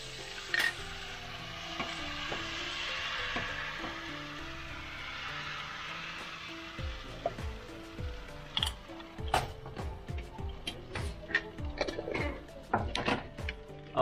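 A ground fermented fish paste mixture cooks in a pot, giving a low bubbling sizzle under repeated scraping and stirring clatter that grows busier toward the end, close and fairly quiet.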